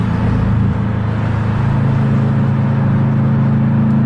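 A car engine idles and drones steadily on a New York street, with a low continuous hum close by and no clear revving.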